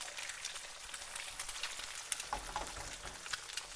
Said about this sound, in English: You're getting that colouring from the Italian sausage and from the chili onto the egg as well. And then it's frying up.